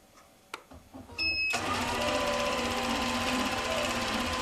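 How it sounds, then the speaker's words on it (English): A sewing machine begins a line of IQ stitching with a few clicks and a brief whir, then settles into a steady, loud mechanical hum close by that carries on to the end. "what happens when the machine stitches"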